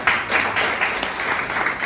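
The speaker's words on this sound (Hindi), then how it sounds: "जोरदार तालियां बजाओ।" Loud applause from a seated coaching-centre audience, dense and continuous clapping filling the whole moment with no talk over it.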